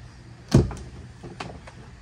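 The entry door of a 2015 Lance 1172 truck camper fitted with a keyless RV lock shuts with one sharp thud, followed by a faint rattle and a softer click.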